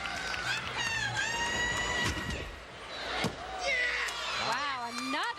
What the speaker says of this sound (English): Wow, another good landing.